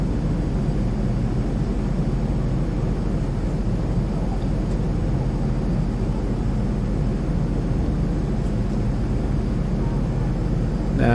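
A steady, low, rumbling drone of an airplane on approach to a runway for landing, heard as continuous even cabin noise with no distinct events.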